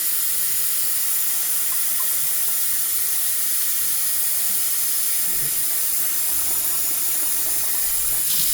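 Hot water runs steadily from a tap into a pot of potatoes for colcannon, a continuous close hissing splash with no talk.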